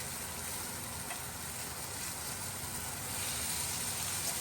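Meat sizzling on an outdoor grill with beef tallow added after Alaska's first snowfall, a loud continuous hiss and crackle of hot fat, steady throughout with no talk.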